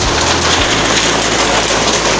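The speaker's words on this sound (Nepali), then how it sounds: "अझै पनि परिरहेको छ क्या असिनै असिना" Hailstones fall in a loud, dense, continuous clatter close by, a constant rattling hiss with a faint low rumble beneath, and no voices.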